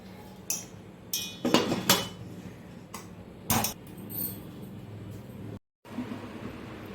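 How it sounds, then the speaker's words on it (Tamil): A metal lid goes onto an idli steamer pot with several close, sharp clanks and rattles spread over a few seconds, followed by a quiet stretch and a brief gap. "இது வந்து மூடி வச்சு ஒரு பத்து நிமிஷம் வேக வைக்கலாம்"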